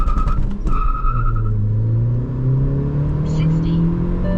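A stock Hyundai Verna Turbo on 16-inch alloy wheels launches hard at about 3000 RPM in sport mode with traction control off, its engine note climbing loudly through rising revs over brief tire chirp, with a voice speaking at the start.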